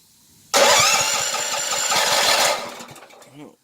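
A Drifta go-kart's small engine cranks and catches abruptly, then runs with a loud, rough, sputtering idle before dropping away and dying out near the end.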